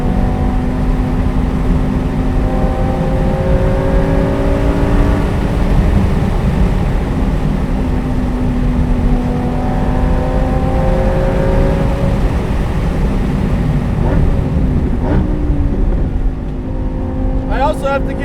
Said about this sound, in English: I hear a lot of that engine